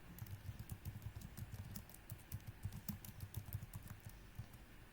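Soft, fast keystrokes on a computer keyboard, a quiet patter of irregular clicks at close range with no voices.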